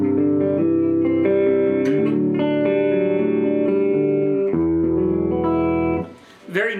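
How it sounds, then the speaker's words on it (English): An electric guitar plays a warm clean tone with every effect on a session pedalboard switched off, ringing sustained chords one after another at steady volume before the sound drops away near the end. "I always like to start with a good clean tone."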